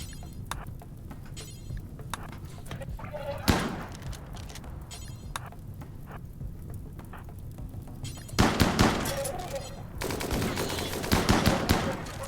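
Bursts of automatic and single gunfire from combat in the colony sim RimWorld, with light machine gun and shotgun fire, sporadic shots early, then dense rapid volleys later, a loud thump partway through.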